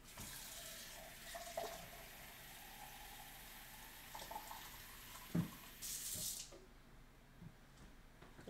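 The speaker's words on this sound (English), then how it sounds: "now we need warm water, so let's see if the water cooperates today" Warm water runs from a kitchen tap while pizza dough is being prepared, a steady close hiss of flow with a few clinks and bumps, ending abruptly when the tap is shut off.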